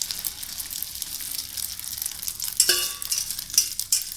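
Capsicum and egg omelette batter sizzling in a hot pan, a steady bright hiss with a sharper crackle and spatter near the end, alone without talk.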